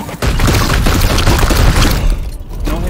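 Gunfire in the video game Warhammer 40k: Chaos Gate - Daemonhunters: a dense, loud barrage of booming shots that runs continuously for about three seconds with no pauses and no voices.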